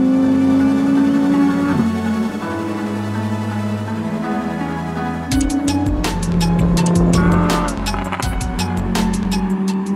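Lamborghini Huracan Evo with a naturally aspirated 5.2-litre V10 driving on a race track, engine droning steadily loud and close, pitch rising and shifting through gears, with sharp crackles and pops in the second half.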